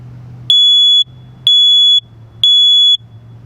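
Smoke alarm sounding after its test button is pushed: three loud, piercing beeps, each about half a second long, evenly spaced close by, over a low background hum.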